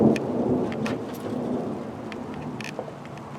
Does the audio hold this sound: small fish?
no